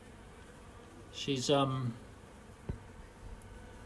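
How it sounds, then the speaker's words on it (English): Honey bees buzz around their hive in a steady low drone, with someone speaking briefly over the insect hum. "spotted the queen bee"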